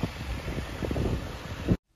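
Strong wind gusting through a park during a storm, a loud broadband roar buffeting the microphone for nearly two seconds before cutting off abruptly, with no talk.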